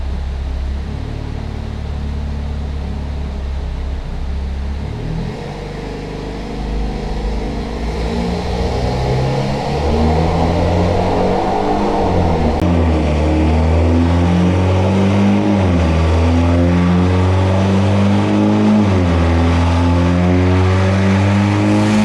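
A Mitsubishi Lancer Evolution X MR running on flex fuel in super sport mode accelerates hard, its engine note climbing in repeated rising sweeps through the gears, loud and close with no talk.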